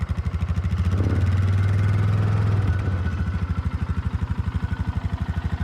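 A four-wheeler ATV engine runs nearby, putting at idle with a steady chugging pulse, then revving up briefly while backing up before settling to idle again.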